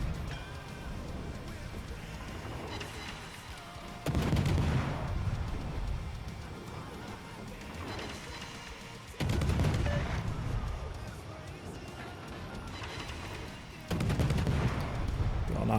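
Naval artillery salvos in the World of Warships game on the Khabarovsk, three heavy booming volleys spaced several seconds apart, each decaying into a long rumble over constant ship engine noise.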